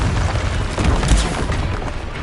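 A fiery Confringo blast in Hogwarts Legacy, a loud dense rumble with crackling bursts that fills the whole moment, up close and continuous.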